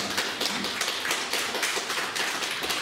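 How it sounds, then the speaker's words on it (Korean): Church congregation applauding in welcome of a visiting elder during Sunday worship, a dense, steady wash of many hands clapping with faint rhythmic peaks, no voices over it. "박수 한번 환영하십시다"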